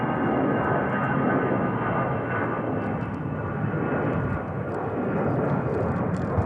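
An aircraft going around in strong wind at Manchester Airport, a steady loud engine roar mixed with broadband wind rumble that holds throughout without talk.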